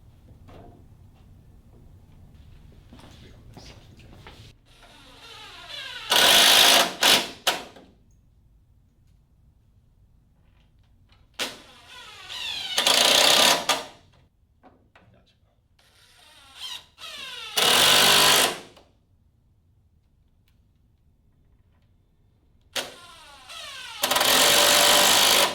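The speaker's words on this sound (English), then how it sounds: "To attach our C-runner, we're going to need" Four wood screws are driven into a C-runner on a traditional workstation table, heard as loud, buzzing power-driver bursts of a few seconds each, separated by long quiet gaps.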